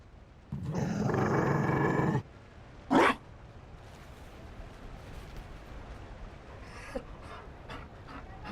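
A Mabari war dog in the fantasy game Dragon Age Inquisition gives a loud, sustained growl for under two seconds, then a short sharp bark or huff follows, with faint quieter noises trailing after.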